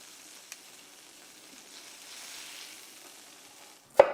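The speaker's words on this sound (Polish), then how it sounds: "Na rozgrzanym oleju obsmaż mięso z obu stron" A soft steady sizzle of beef frying in hot oil, with a sharp clatter near the end.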